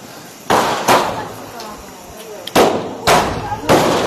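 Sky shot fireworks set off outdoors during Diwali celebrations, heard as several loud sharp bursts and pops spaced unevenly over a few seconds, standing out sharply against a background of distant crowd noise and chatter.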